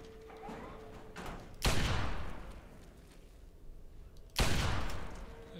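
Two loud, booming Scout Magnum pistol shots ring out in Fallout 3, spaced a few seconds apart, each with a long decaying tail over quieter game ambience.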